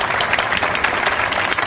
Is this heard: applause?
yes